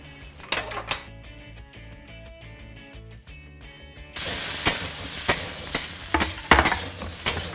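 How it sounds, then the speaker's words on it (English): Locusts and mealworms fry in a pan for an insect stir-fry, with clinking utensils and stirring first, then a loud, steady sizzle as the insects hit the hot oil, close up and without speech. "First thing is to cook my locusts and mealworms."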